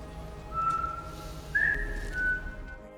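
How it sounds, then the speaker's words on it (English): A prisoner's whistle sounds in a film scene: a few sustained, clear high notes, the first short, then a louder rising note with a brief final tone, over a quiet low background hum with no talking. "the prisoner won't talk and only blows a whistle"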